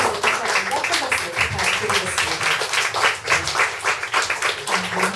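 Audience at a poet's book concert breaks into sustained applause, dense overlapping clapping throughout, close and fairly loud with a host voice faintly under it.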